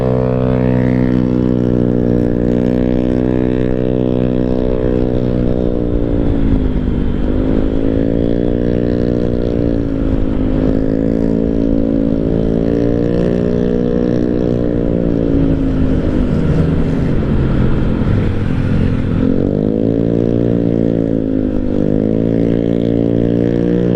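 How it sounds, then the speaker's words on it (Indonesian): A motorcycle touring between Bandung and Tasikmalaya via Cisinga, its loud, raspy exhaust droning steadily up close, the engine pitch rising and dipping as the rider throttles on and off. "Knalpotnya ribut, kacau tuh."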